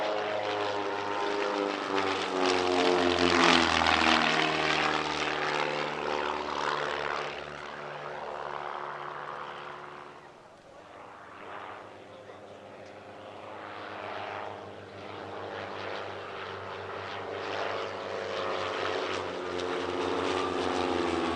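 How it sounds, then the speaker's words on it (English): Propeller display aeroplanes in tight formation drone past at an airshow, a loud sustained multi-engine hum swelling as they near, easing off, then building again as they return. "an absolutely brilliant display aeroplane coming in a bit closer to us now in tight formation"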